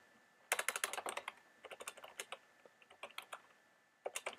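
Someone types on a computer keyboard while entering data in SketchUp, with quick, quiet bursts of key clicks separated by short pauses.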